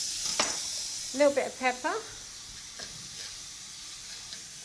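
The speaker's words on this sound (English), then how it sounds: "Just flip the burgers in between." Vitello tonnato burgers sizzle steadily in a hot pan as they are flipped, a continuous close frying hiss running under a brief spoken remark.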